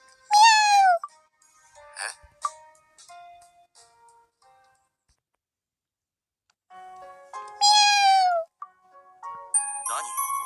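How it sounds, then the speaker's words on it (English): A cat in the video game Obey Me! Nightbringer gives two clear, rising-then-falling meows several seconds apart, separated by chimes and soft game sound effects. "You never seen a cat before?"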